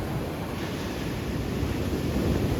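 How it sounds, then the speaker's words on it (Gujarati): Big sea waves roll in at the shore during rain, a dense, continuous roar of surf mixed with wind rumble, loud and steady with no voices. "મોટા મોટા મોજા આવવા મળ્યા"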